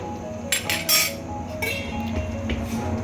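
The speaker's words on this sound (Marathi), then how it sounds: "कढईवर झाकण ठेवणार आहोत" A metal lid is set onto a kadai of cooking mixed vegetable curry, giving a few quick clinks and clanks over a low kitchen hum.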